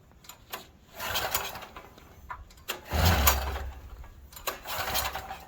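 A Stanley 8000 generator engine with choke on is cranked in repeated pulls, each burst of mechanical rattling and churning rising and dying without catching, separated by brief quiet gaps.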